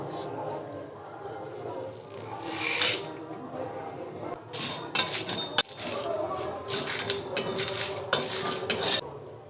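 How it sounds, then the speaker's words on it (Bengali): Whole cumin, cloves, cardamom, cinnamon, dried chillies and coriander seeds dry-roast in a pan, stirred with a metal spoon that scrapes and clinks in irregular bursts, louder in the second half, while a person talks. "এখানে নিয়েছি জিরে, গোটা জিরে, লবঙ্গ, এলাচ, দারচিনি, শুকনো লঙ্কা আর গোটা ধনে, সব একসাথে ভেজে নেব।"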